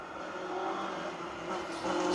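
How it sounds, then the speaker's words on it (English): A Lancia rally car with a small three-cylinder engine passes on a rally stage, its engine note droning at moderate distance and swelling slightly as it goes by, with no voices. "Sounds ferocious in the little three-pot engine, doesn't it?"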